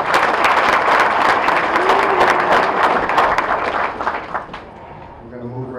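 Audience applause at a fire company installation dinner, loud sustained clapping from a banquet room crowd that tapers off toward the end as a voice begins talking over the fading claps.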